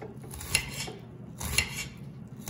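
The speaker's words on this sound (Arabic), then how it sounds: "وهلا رح افرم البصل" An onion is finely chopped on a board with a knife in two short bursts of quick, close tapping about a second apart, quiet between strokes.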